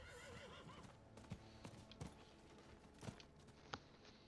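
Horse in the video game Diablo 4 whinnying, with clip-clop hooves striking in an uneven series of distinct hits under game ambience, fairly quiet, without talk.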